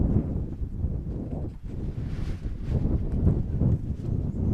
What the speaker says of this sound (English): Wind continues to blow, and it's not messing around as some of the gusts now